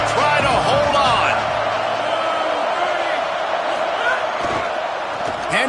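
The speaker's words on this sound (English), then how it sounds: "This crowd even louder now on second down as they try to hold on." A stadium crowd roars in an American football video game on a tense second down, a dense, sustained wash of cheering and noise with a few sharp smacks, and voices run through it.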